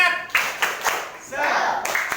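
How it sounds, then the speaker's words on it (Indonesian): A classroom of students doing a rhythmic group clap led by the teacher, with several sharp, spaced bursts of hands clapping together, mixed with voices. "mari kita tepuk semangat bersama-sama"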